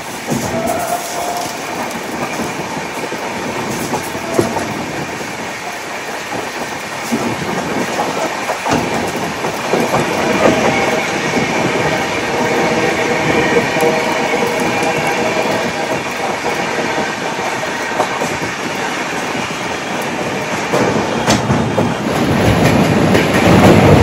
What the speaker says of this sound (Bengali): ট্রেন ছেড়ে দিল শিয়ালদা রেলওয়ে স্টেশন